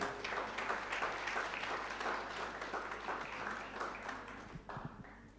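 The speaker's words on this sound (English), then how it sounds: "oh, round of applause." An audience at a charity-organization chat event gives a round of applause, a dense, even wash of many hands clapping at moderate distance, fading slightly near the end.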